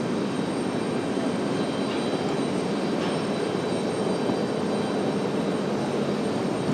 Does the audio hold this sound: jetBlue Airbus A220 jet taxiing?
yes